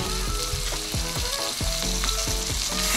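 Mashed boiled eggplant hitting hot oil in a pan, a loud, continuous close sizzle with repeated scraping strokes in a steady rhythm.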